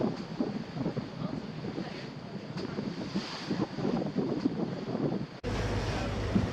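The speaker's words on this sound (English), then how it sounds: "it's too wavy and windy." Strong wind buffets the microphone over rolling waves at Outlook Bay in Thailand, a steady broadband roar of gusts and surf that drops briefly near the end before surging back louder.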